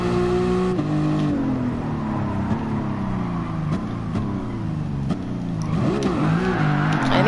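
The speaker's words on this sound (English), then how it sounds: "I give it like a little bit of a rev, and then I'll wait until like the engine starts going like, and then I'll go ahead and shift" Nissan Skyline engine in a drag racing video game, revving up in rising pitch with several gear shifts breaking the whine, loud and continuous with no talking.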